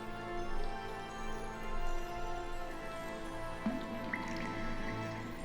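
Water dripping in the video game Hogwarts Legacy, in a map chamber, with occasional soft drips over a dense sustained musical drone.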